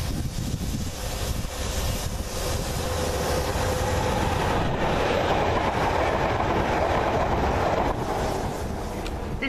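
A train passes on the South West Main Line, a steady loud broadband rumble with wheel clatter and wind noise filling the whole stretch, no voices.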